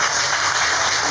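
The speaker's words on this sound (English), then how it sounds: "So please give him a big applause." Audience applause filling a hall, a dense steady wash of clapping that stays loud and even for the whole short moment with no voices over it.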